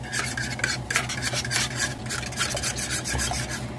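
Ube cheese cake batter being mixed in a bowl makes a steady, close rasping and scraping rhythm of repeated strokes, with no voices.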